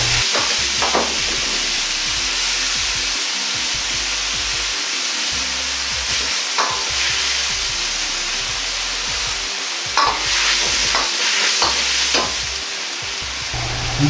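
Fried eggplant goes into a bubbling mapo-style sauce of chicken stock and sugar, making a loud steady sizzle broken by several sharp spatula scrapes and clatters as it is stirred, with no speech.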